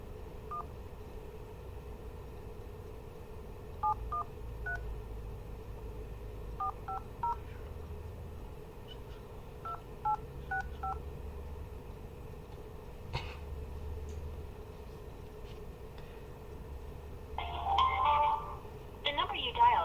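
Telephone keypad dialing tones while calling a number: short, evenly spaced DTMF beeps in several small bursts, with a steady line hum underneath and a brief ringing or connecting sound near the end.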